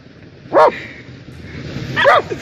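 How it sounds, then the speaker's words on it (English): A dog on a pond shore, confronting an eel, gives two sharp barks about a second and a half apart, close and loud against a faint background. "A curious dog spotted an eel on the shore of a pond and tried to dominate it."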